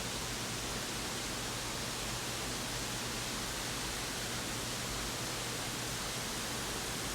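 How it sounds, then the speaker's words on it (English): A Wisconsin waterfall roars steadily and loudly nearby, a dense, unbroken broadband rush with no pauses and no voices. "big build up to the view of the falls. We can hear them."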